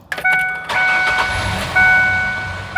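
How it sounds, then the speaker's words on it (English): A car engine runs with its mass airflow sensor removed, held at a fast idle. It comes in with sharp bursts at the start, then settles into a steady mid-pitched drone with a bright whine over it, close and loud. "we're just gonna show we can still run the motor without the mass airflow sensor on"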